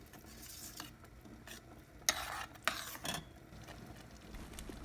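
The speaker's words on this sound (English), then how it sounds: "Mix all these ingredients very well." Low-flame stirring of akkara adisal ingredients in a pot, with soft scraping and a few sharper clinks of the spoon against the pot, fairly quiet and close, no talking.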